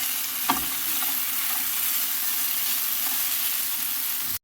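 Food for khasadiya frying in a pan until brown makes a continuous close sizzle, with a scrape or two of stirring near the start, steady and moderately loud with no voices.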